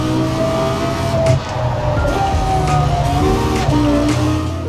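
In the video game Forza Horizon 4, a car engine without twin turbos drones loudly and continuously, its pitch rising and shifting as it accelerates and revs.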